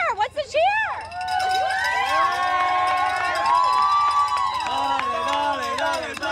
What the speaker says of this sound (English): Let's hear the cheer. What's the cheer?